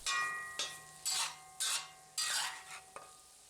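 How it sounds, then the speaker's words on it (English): Chopped aromatics stirred in a Lodge cast iron wok, five or six distinct scraping strokes in a loose rhythm, close and clear over a faint sizzle, with no talking. "We add our chopped aromatics and stir them in until they're good and soft"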